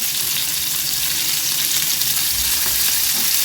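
Steady sizzling of onions frying in a pan, a constant crackling hiss with occasional faint scraping from stirring.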